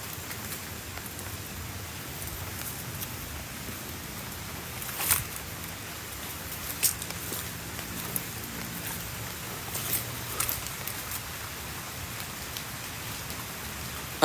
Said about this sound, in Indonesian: Cik, ini hujan, Cik.